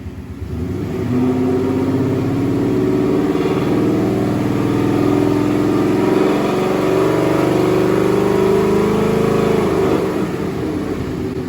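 A Ford Mustang Gen 2 Coyote V8 engine idles, then climbs smoothly to just over 3,000 rpm and holds there before easing back down, loud and close-up.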